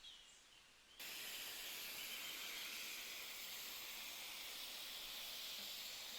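Chicken shawarma sizzles in oil in a hot pan as a steady, even hiss starts abruptly and carries on unbroken, with no talk.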